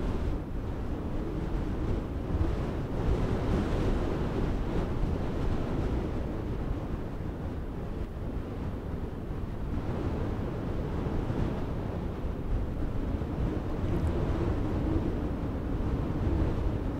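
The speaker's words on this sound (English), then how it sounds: "that 120 kilometers per hour wind outside" Strong coastal wind of about 120 km/h roars and buffets the microphone over crashing waves, a loud, continuous wash of noise with no letup.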